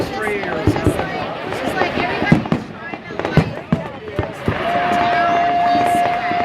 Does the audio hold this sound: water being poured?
no